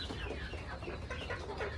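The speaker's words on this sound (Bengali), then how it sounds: "মুরগি খক খক করতেছে," Farm chickens cluck and cough continuously in cold, wet conditions after rainwater got into their shed, with many birds sounding at once at close range alongside a steady low background rumble.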